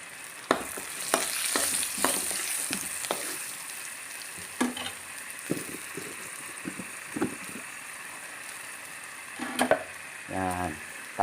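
Onion and pepper frying in a pan while being stirred, a steady close sizzle broken by repeated scraping and tapping of the spatula against the pan.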